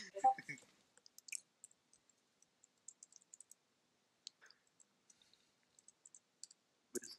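Keyboard typing in scattered bursts of faint, close, light clicks separated by quiet pauses, with a short voice at the start.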